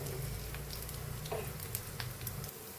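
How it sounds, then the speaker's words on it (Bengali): Mini semolina and yogurt pizzas frying in ghee in a pan, a close, steady soft sizzle with a few light pops and scraping touches, no voices. "এই একইভাবে আমি সবগুলোই ভেজে নেব।"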